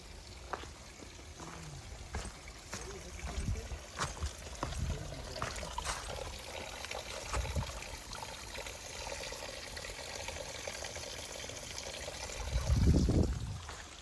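Water trickling from a small water source beside a hiking trail, a faint continuous dribble with scattered drips and soft outdoor ambience, ending in a brief low thump.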